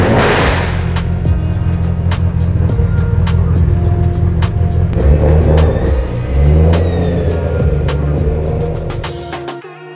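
A 700-horsepower Mitsubishi Evo engine roars loudly and steadily close by, with deep low rumble throughout and a slight swell in revs around the middle before the sound cuts off at the end.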